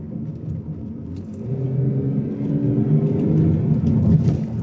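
A BMW Z4 E86 with a 265 hp engine rumbles steadily from inside the car, its low drone building in loudness as it pulls through a gear change, with no voices.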